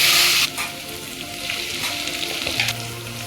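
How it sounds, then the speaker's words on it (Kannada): Potatoes and peas sizzle steadily in a hot pan while cooking tomato rice bath, a loud, continuous frying hiss with light stirring scrapes and no voices. "ನಾನೀಗ ಆಲೂಗೆಡ್ಡೆ ಮತ್ತು ಬಟಾಣಿ ಹಾಕೋತಾ ಇದ್ದೀನಿ. ಇದೊಂದು 2 ನಿಮಿಷ ಫ್ರೈ ಆಗಬೇಕು."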